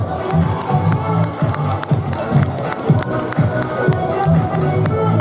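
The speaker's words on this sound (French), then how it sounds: "On les applaudit, s'il vous plaît, applaudissements" Continuous crowd noise at a Christmas parade in Châteauroux, with cheering and scattered clapping, steady and fairly loud, with shouts mixed in throughout.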